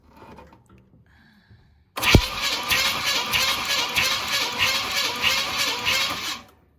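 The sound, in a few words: 1969 Pontiac Bonneville engine cranking during compression test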